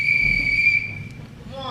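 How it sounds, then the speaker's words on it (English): A referee's whistle sounds at a wrestling show, one steady shrill tone held for under a second, then faint voices as the tone fades away. "that godforsaken whistle and everything else"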